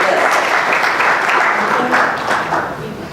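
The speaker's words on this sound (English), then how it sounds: "Give yourselves a round of applause." Conference participants at an anti-racism training session give a round of applause, a loud continuous clatter of many hands that tapers slightly toward the end.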